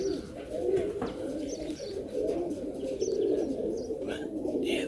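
Serbian Highflyer pigeons cooing close by in a continuous low, throaty murmur, with a few faint chirps and scattered outdoor noise around them.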